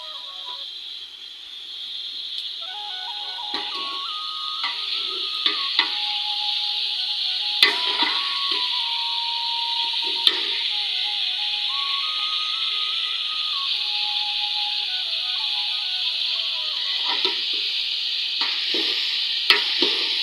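A curry sizzles steadily in a pot over a wood-fired stove while a spoon stirs it, giving a constant close frying hiss punctuated by irregular scraping clicks, with no talking.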